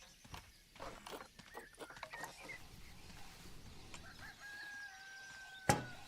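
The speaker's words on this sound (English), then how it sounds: "I can hear that cockerel again." A cockerel crows in the farm-building video game Plant Zoo: a faint, drawn-out call late in the clip, set among soft clopping and clicking game sounds.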